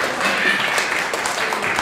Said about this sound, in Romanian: Îl aplaudăm tare,